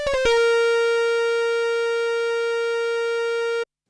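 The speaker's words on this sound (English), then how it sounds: "sounds like a synthesizer lead" A single sustained synth lead note from a Sequential Prophet 2000 sampler rings out clean and bright after a brief click-laden attack, holding steadily for several seconds before cutting off, with a bad loop.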